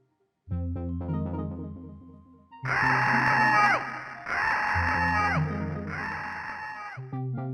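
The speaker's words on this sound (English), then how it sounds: "the screen would display a creepy image of a skull with a screaming sound" A low synthetic tone gives way to three loud, distorted electronic screams from a scareware screamer in quick succession, harsh and abrasive, before the low drone returns.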